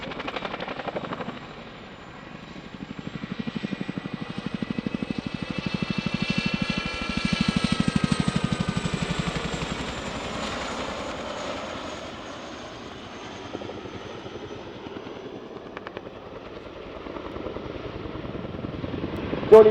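A Chinook twin-rotor helicopter flies its display at the RIAT 2022 airshow, its rapid rotor chop and engine whine swelling and fading as it passes at a distance.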